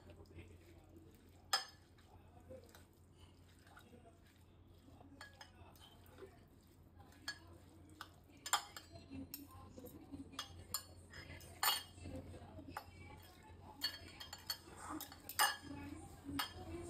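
Vegetable salad tossed and mixed in a bowl, giving faint soft rustles and squelches broken by sharp clinks of a utensil against the bowl at irregular moments.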